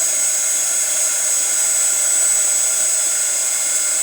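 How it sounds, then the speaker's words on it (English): Heat gun blowing steadily for embossing on a card-making craft table: a constant, airy, high-pitched whine and fan hiss, close and unchanging, with no talking. "We're going to heat up our heat gun,"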